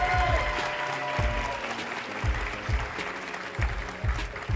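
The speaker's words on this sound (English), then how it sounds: "another big round of applause for all of our contestants as well" An audience applauds for the contestants at the Miss New York Teen USA 2025 pageant finals, sustained clapping heard at moderate distance beneath music playing in the hall.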